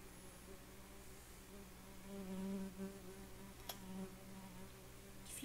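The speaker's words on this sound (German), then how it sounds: "Dieses Geräusch von dieser hässlichen Fliege" A housefly buzzes faintly and intermittently indoors, a thin hum that swells briefly near the middle before fading again against a quiet background.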